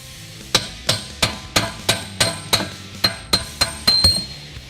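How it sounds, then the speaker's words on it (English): Steady hammer taps on the pinion of a Ford Mustang 8.8-inch rear axle (1986–2014), about eleven sharp metallic strikes in even rhythm, close and clear with no talk. "sometimes you get lucky and just tap it with a hammer"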